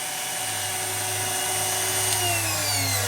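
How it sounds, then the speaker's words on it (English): A Dremel rotary tool cutting through a glass bottle gives a continuous high whine with a steady low hum beneath, close and even throughout. "the Dremel did the work, and it cut it pretty much straight"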